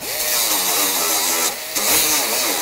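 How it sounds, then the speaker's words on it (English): A roll-lock disc on a power tool grinds the rough cut edge of a transmission cooler line, a loud whining buzz that sweeps in pitch, briefly dips, then resumes close up. "I'm just going to do that with a roll-lock disc."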